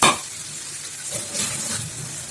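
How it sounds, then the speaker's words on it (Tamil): Washed prawns, rinsed with salt and turmeric, hit a hot pan with a brief burst of sizzling and a faint clink, then settle into a softer, steady hiss and crackle. "இப்போ வந்து இதில் நம்ம எடுத்து கழுவி வச்சுருக்க இறாவை சேர்த்துருவோம்."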